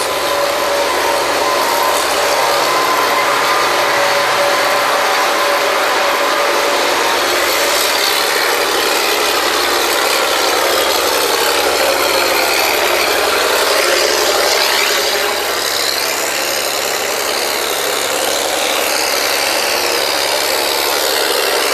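Drilling rig mud pumps run on an old kelly rig, a loud, constant mechanical roar with grinding and rattling texture that fills the whole stretch without pause and with no talk.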